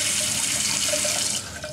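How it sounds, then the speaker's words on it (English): A sink tap runs hard in a bathroom, a loud, steady close-up gush of water that drops slightly in level near the end, with no talking over it. "Sorry if the water is really loud."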